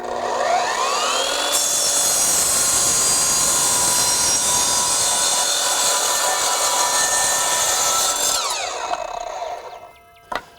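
An Evolution multi-material miter saw spins up and cuts through wood framing stock, a loud, sustained whining roar that holds steady for several seconds before winding down, ending with a single knock.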